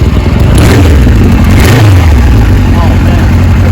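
A 1974 Kawasaki Z1 900 motorcycle engine fires up and settles into a loud, close, steady running idle with a brief rev near the start.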